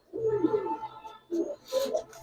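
Pigeons in a loft, including giribaz birds, give several low, rounded coos close by, a long throaty call followed by two shorter bursts, with no talking over them.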